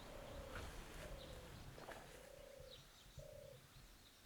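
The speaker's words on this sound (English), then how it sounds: "Turtle doves are such wonderful birds." European turtle doves on North Yorkshire farmland give a repeated run of soft, purring coos at a moderate distance, evenly spaced over a steady outdoor background hiss, with no voices.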